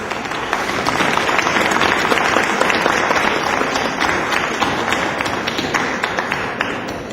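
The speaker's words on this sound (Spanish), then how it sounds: "que le pudiéramos dedicar un fuerte aplauso a su memoria" Sustained applause from a large crowd in a Mexico City legislative session, dense and steady clapping that fills the whole stretch at a strong, even level.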